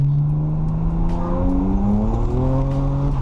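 A BMW 335 accelerates hard with traction control still on, its engine note climbing steadily in pitch through a sustained, loud pull with a layered exhaust drone throughout.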